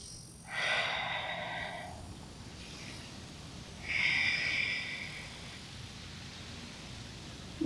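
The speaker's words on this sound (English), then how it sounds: "Breathing in and out deeply." Deep breathing during a yoga session, two slow, soft, airy breaths close to the microphone, each lasting about a second and separated by quiet.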